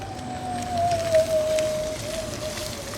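A thin, steady electrical whine from an electric-converted Classic Mini on the move, one sustained tone drifting slightly in pitch over faint road noise.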